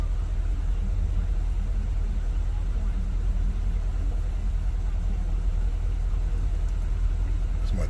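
A Porsche Cayenne Turbo 958 engine idles steadily at close range after several minutes of running, producing a constant low rumble that holds level throughout without revving.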